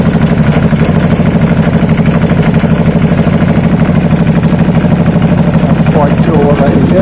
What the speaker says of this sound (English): I don't know if that's cam chain rattle.